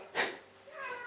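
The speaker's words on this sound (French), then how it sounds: "Ah, c'est le chat qui passe." A cat passing through a kitchen gives one short, fairly close meow, followed by a fainter, drawn-out vocal sound.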